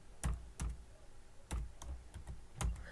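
Keystrokes on a computer keyboard while writing Python code, heard as a handful of separate, fairly soft clacks at an uneven pace, close up and without speech.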